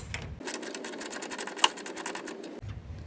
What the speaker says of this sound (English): Then I'm going to get my wrench and socket set and crank it down